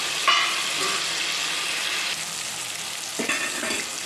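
Ginger garlic paste and tomatoes fry in oil in a pressure cooker for a vegetable biryani, giving a steady close sizzle throughout with a few brief scraping stirs.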